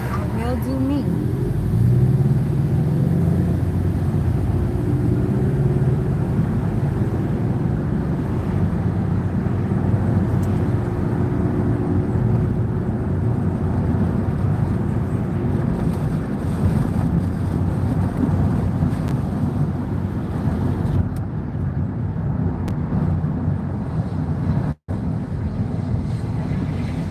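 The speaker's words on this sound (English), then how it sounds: "Airport, the little small planes, kind of loud." Small propeller planes around an airport make a steady, loud engine drone that fills the whole stretch, mixed with wind buffeting the microphone and a person talking over it.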